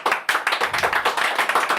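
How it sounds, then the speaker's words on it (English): A small group in a podcast studio doing a deliberately slow clap, a few people clapping in an even rhythm of about six to seven claps per second, close and clear with no talking. "Today deserves a slow clap."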